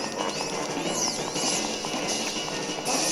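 Horse hooves in Zelda: Ocarina of Time, a quick galloping clip-clop running steadily under game music and effects, close and fairly loud.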